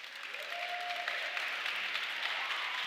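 Steady applause rises from the audience for a band at a Juneteenth jazz event, a dense wash of clapping heard from a moderate distance with no one talking over it.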